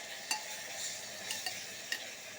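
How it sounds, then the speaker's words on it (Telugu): Onion and tomato frying in a pan, a quiet steady sizzle with a few light clinks as the food is stirred, no voices. "ఎర్రగడ్డ టమోటా బాగా వేయనియండి."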